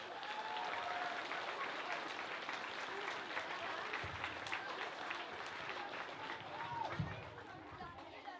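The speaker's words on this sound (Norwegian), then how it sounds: "Gi dem en applaus!" An audience at a primary school's 40th anniversary celebration applauds a large school choir of about 280 pupils, steady clapping mixed with crowd chatter throughout.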